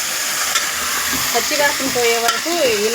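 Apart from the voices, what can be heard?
stirring potatoes frying in a pan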